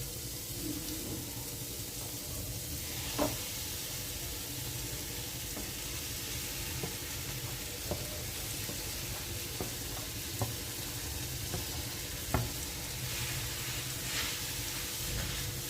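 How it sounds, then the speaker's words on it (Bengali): Peeled boiled potatoes being stirred and fried over low flame for masala dosa filling, with a steady low sizzle broken by occasional light scrapes and taps of the spatula. "তিনটে মাঝারি সাইজের আলু সেদ্ধ করে রেখেছি খোসা ছাড়িয়ে এবার দিয়ে দিচ্ছি"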